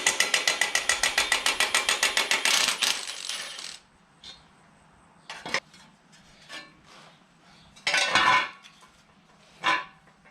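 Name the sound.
Milwaukee cordless ratchet with adjustable torque removing a bolt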